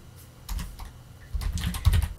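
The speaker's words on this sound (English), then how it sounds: "So let's now type this." Fingers tap quick, close keystrokes on a computer keyboard, a few scattered clicks at first, then a denser burst of typing toward the end.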